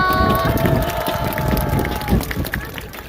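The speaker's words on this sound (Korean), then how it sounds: "큰 박수로 환영해주세요" Crowd applause at an outdoor Democratic Party campaign rally at Hopyeong Station in Namyangju, a dense, steady patter of many hands clapping close by, with voices mixed in.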